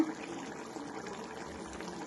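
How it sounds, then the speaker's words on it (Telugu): Water is poured into a simmering Godavari fish curry cooked village style, a faint, steady splashing pour that runs briefly and evenly. "కొంచెం వాటర్ పోయాలి. వాటర్ పోస్తే కూర ఫినిష్ అయిపోయినట్టే."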